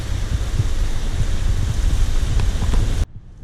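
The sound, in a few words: rain with wind picking up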